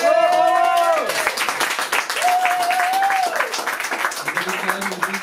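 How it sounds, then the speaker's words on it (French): An audience applauds at a slam poetry evening in Antibes, steady clapping running beneath a speaking voice and continuing after it. "on peut les applaudir quand même"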